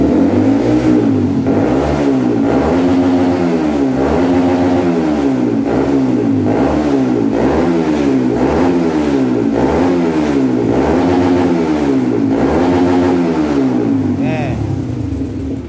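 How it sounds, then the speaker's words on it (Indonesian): A Honda CBR 150 motorcycle engine is revved hard and repeatedly, rising and falling in a steady rhythm of roughly one surge a second. It stays loud and close throughout. "Nah, sekarang kita coba gas."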